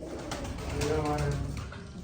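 A soft, low pigeon coo rolls out close by, a short throaty call over faint background noise.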